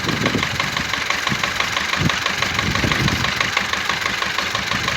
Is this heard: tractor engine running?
yes